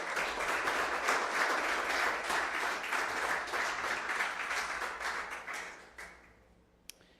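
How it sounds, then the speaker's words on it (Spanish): A church congregation claps together during a service, a loud sustained burst of applause that fades out toward the end, leaving a single sharp tap near the close. "Denle un aplauso al Señor."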